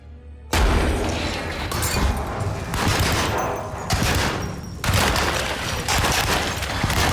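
Rapid bursts of Tommy gun fire at monsters in the video game Alone in the Dark, loud sustained volleys broken by brief pauses.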